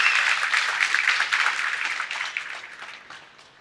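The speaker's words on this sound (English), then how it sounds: "Give her a warm round of applause." An audience at a tech talk gives a warm round of applause, dense and fairly loud at first, then thinning out gradually over several seconds.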